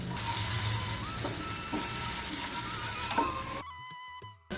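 Steady sizzling of coriander stir-frying in a pan, with a few soft stirring scrapes, then a brief quieter moment near the end.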